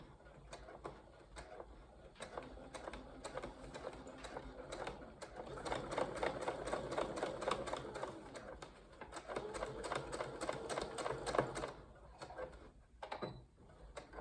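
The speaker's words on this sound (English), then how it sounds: "Do a back stitch and stitch again." Sewing machine stitching a paper bag skirt, running in a steady close mechanical rattle that speeds and slows through a backstitch and continued seam, with brief stops and soft handling noises near the end.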